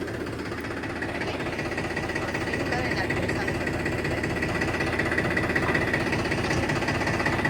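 A tractor engine drives a wheat-cleaning machine, a steady loud mechanical rumble with rapid knocking vibration that holds constant throughout, with some voices mixed in underneath.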